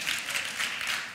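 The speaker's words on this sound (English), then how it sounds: "We should clap for that." A church congregation claps in a brief, fairly faint patter of applause, slightly distant, with no talk over it.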